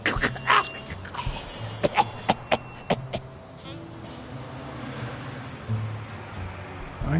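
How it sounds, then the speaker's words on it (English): A game character in Blacksad: Under the Skin coughs in several sharp, harsh bursts, spaced irregularly through the first few seconds, with voices talking and quieter background sound afterward. "You've got one nasty cough."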